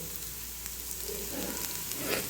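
Ginger-garlic masala roasting in a pan gives a soft, continuous sizzle and crackle, close by and fairly quiet, with faint stirring scrapes and no talk.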